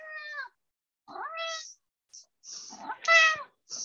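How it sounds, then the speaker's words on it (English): A pet cat meows several times close by, in short separate cries with quiet gaps between them, the last one the loudest. "Sorry, I've got a cat here. I don't know if you can hear any meowing."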